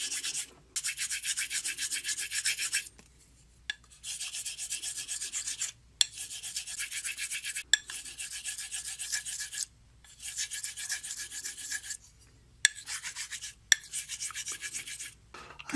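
Straight razor, a Dovo Sunday Shaver, honed on a large 60 by 250 millimeter conical cylinder hone, giving loud, close rasping strokes in long bursts separated by short silent pauses.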